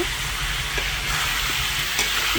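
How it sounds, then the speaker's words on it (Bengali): Beans and potatoes with turmeric and chili powder are sautéed in a pan, giving a dense, even sizzle throughout with faint scraping touches. "এখন একটু ভালো করে কষিয়ে নিব"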